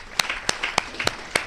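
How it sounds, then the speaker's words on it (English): An audience applauding during a live-streamed address about the Gambia, a moderate ripple of clapping with distinct sharp claps spaced through the stretch over a murmuring crowd. "Gambians, you need to applaud yourself."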